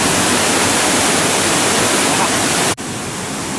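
Waterfalls in the bonobo exhibit at a zoo give a loud, steady broadband rush of falling water that breaks briefly near the end, then resumes slightly quieter.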